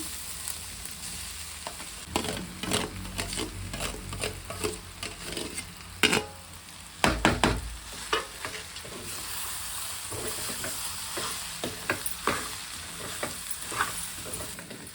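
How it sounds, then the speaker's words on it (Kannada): Potatoes fry and sizzle in a pan with turmeric, and a utensil scrapes and stirs them in repeated bursts against a steady, fairly quiet sizzle. "ಇವಾಗ ನೋಡಿ ಆಲೂಗಡ್ಡೆ ಹಾಕೋತಾ ಇದ್ದೀನಿ."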